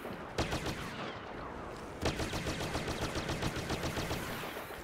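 Pistol and blaster shots from Star Wars Battlefront crackle in quick repeated bursts, loud and close, with a brief lull before a second rapid volley.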